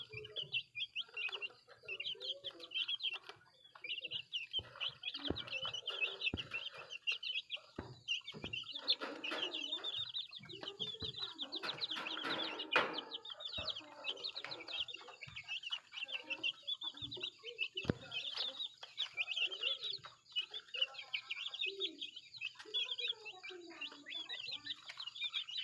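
A flock of hens and chicks clucks and peeps continuously close by, with high, busy chick cheeps over lower hen clucking and a rooster among them, all without talk.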